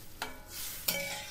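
A spoon stirs spiced masala with added water in a pan, giving two short scraping strokes over a low simmering hiss, close and fairly quiet.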